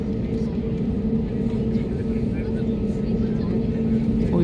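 Inside an airplane taxiing at Guwahati airport, a loud, steady engine drone fills the cabin without a break.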